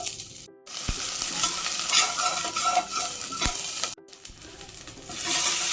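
Onions sizzle and crackle in hot oil after tempering with karuvadagam for carrot and broad bean sambar, a steady frying hiss punctuated by a few sharp clinks of a utensil against the pan.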